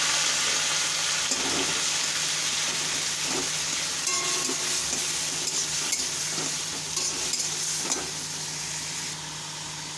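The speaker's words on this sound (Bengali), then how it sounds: "এখানে গোটা গরম মশলা একটু দিয়ে দিলাম তেলের মধ্যে, রসুনটা দিয়ে দিলাম, পেঁয়াজ বাটাটা ছিল সেটাও দিয়ে দিলাম" Whole garam masala, garlic and onion paste fry in oil with a loud, continuous sizzle that stays close and steady throughout, with faint scraping and stirring underneath.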